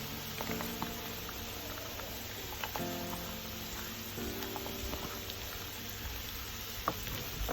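Onion and garlic frying in a pan for baingan bharta, a steady broadband sizzle with faint crackles and small ticks throughout, fairly soft and unbroken, with no talking.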